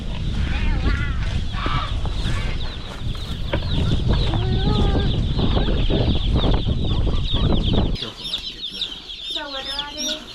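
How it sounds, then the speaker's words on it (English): Newly arrived meat-bird chicks cheep in a dense, high-pitched chorus close by, with people talking over and between the peeps. "I hear chicks."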